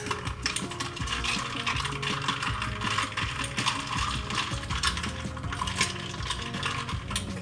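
A metal straw stirs whipped coffee with chocolate milk, clinking and rattling rapidly against the glass in a loud, close, continuous stream of small metallic ticks.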